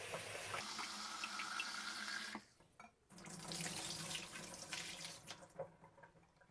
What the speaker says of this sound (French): On commence par enlever l'eau avec laquelle les cachous ont trempé et on rince à nouveau.